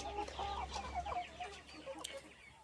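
Several young RZ pullet hens, not yet laying, cluck softly and steadily, a busy mix of short calls at moderate distance over a faint low hum.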